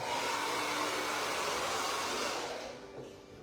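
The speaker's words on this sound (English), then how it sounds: "let me just blow the hair over" A hair dryer fitted with a diffuser blows steadily and loudly close by during a long layered haircut, a continuous broad whoosh that eases slightly toward the end.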